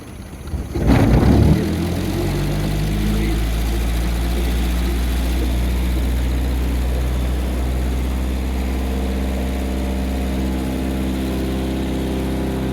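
An inboard engine on a 1953 Lyman Islander boat is throttled up with a loud surge, then holds a steady, heavy droning roar with a deep low rumble that continues without pause.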